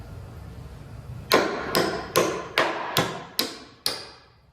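A nail being hammered in, six sharp ringing strikes at an even pace, close and loud, after a moment of quiet.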